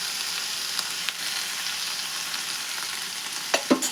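Chopped tomatoes frying in oil in a pan for chutney, a steady close sizzle with a few sharp stirring knocks near the end.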